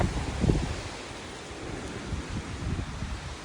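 Wind roars steadily through trees on an exposed mountain trail in freezing weather, a loud broadband rush with gusty swells and low buffeting against the microphone, no voices.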